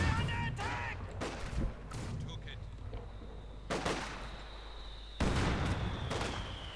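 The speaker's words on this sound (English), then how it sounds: "Further heavy mortar in here from the heavy mortar battery" Heavy mortar battery fire in the Company of Heroes 2 strategy game: several sharp, booming blasts at irregular intervals, the loudest near the end, over a low rumbling battlefield bed.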